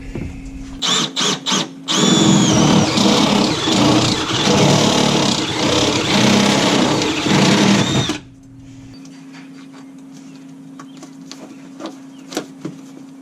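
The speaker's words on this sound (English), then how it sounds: "So I'm going to go ahead and drill that out." Power drill boring a hole through a car body panel on an 1982–1992 third-generation Camaro or Firebird during a battery relocation: a few short bursts, then a loud sustained whine for about six seconds, stopping abruptly before quiet room tone.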